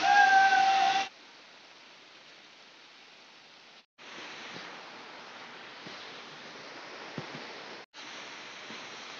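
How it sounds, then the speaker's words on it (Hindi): Steady broadband rushing of a waterfall in the rain, continuous and fairly loud, with a couple of brief dropouts and no voices. "और ये ऊपर से आ रहा है झरना।"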